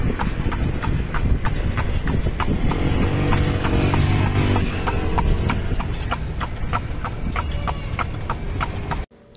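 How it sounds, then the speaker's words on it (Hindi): Hooves of a horse pulling a carriage clip-clop through Intramuros in Manila, a steady, loud, close rhythmic clatter that carries on without pause until it cuts off near the end. "हम लोग घोड़े गाड़ी का सवारी ले चुके हैं"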